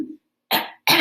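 A man gives two sharp, harsh coughs in quick succession, close and loud, with silence between them.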